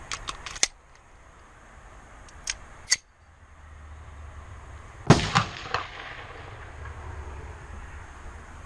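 Beretta 92S pistol fired left-handed at a 50 m outdoor range: a handful of sharp, separate shots spaced a few seconds apart, slightly distant and followed by a low rumble of background noise, no talking.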